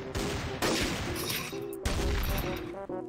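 Gunfire in the Roblox game Traitor Town: a loud burst of rapid, overlapping gunshots that keeps going over the whole stretch, with two sharper blasts standing out, set against game music and noise.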